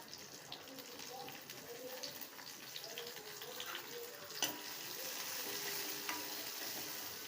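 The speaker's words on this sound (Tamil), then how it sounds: "மல்லி, சீரகம், மிளகு, சோம்பு இதெல்லாம் நம்ம இது கூட சேர்த்து வதக்கிக்கலாம்." Coriander, cumin, pepper and fennel are sautéed in a pan for a soya gravy, making a faint, steady sizzle with soft stirring scrapes and one sharp clink, while a voice talks over the cooking.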